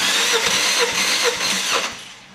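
A 2009 Fiat Doblo with a 1.4-litre 8-valve CF4 engine cranks on the starter during a compression test. A steady rhythmic whirring churn with regular compression pulses, close and loud, stops after about two seconds.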